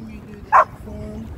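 A golden retriever gives two short, sharp barks, one near the start and one at the end, over a quiet background with faint speech.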